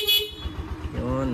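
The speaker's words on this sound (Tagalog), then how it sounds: "Tapos try natin tong busina." A short, close horn toot from a Honda TMX 125 motorcycle rings out at the start, followed by a brief second tone over a low idling engine, with a voice speaking nearby.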